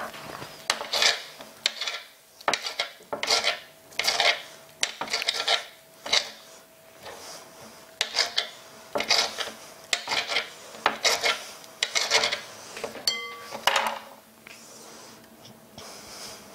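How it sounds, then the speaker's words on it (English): A knife chops cilantro on a cutting board in rhythmic bursts of rasping, scraping strokes, each group of cuts separated by short pauses, close and clear with no talking. "we're gonna do 1 tablespoon of chopped cilantro. Get some of that. Chop it up."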